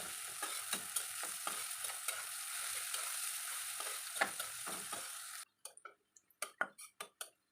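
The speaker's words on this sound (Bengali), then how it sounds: "পেঁয়াজটাকে সুন্দর করে বেরেস্তা বানিয়ে নিব" Onions fry in hot oil in a wok, making a steady close sizzle for about five seconds before it cuts away to scattered stirring taps and scrapes.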